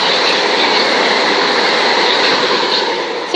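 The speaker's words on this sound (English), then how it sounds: "now passing through is a fast southbound service to Tattenham Corner. 377117 and 377447." Two coupled Class 377 passenger units race through a suburban station on the Brighton main line at speed, a loud, close, continuous rush of wheels and air with no pause, no voices.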